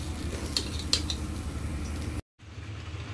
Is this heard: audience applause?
no